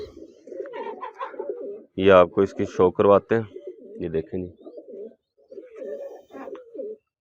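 Teddy pigeons, a pair with a white hen, give several loud, rhythmic coos in the middle of the clip while someone talks before and after them.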